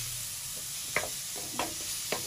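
Crushed white and black pepper sizzles in a pan for a Turkish chicken soup, a soft steady fry broken by three sharp stirring scrapes spaced about half a second apart.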